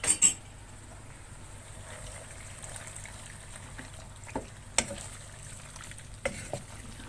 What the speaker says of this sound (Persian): یه مقدار شیر و خامه دارم به پاستام اضافه میکنم